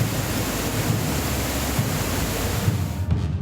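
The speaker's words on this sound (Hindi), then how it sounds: "पानी का बहाव इतना तेज था कि धार देखकर ही दिल सहम जाए" Rushing floodwater pours through the submerged Dharkundi ashram in Satna during heavy monsoon rain, a steady, dense roar of churning water that holds constant and close throughout, with no voices.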